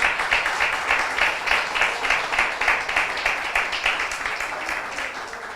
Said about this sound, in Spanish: ¿Cuántos les dan un aplauso a nuestro Señor Jesucristo?